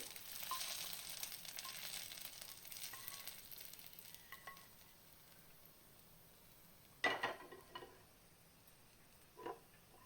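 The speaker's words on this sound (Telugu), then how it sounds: "పల్లీలు వేగిపోయి తీసేసుకుంటున్నాను" Faint, soft sizzling of peanuts frying in a pan, with a couple of sharp clinks of a utensil against metal near the end.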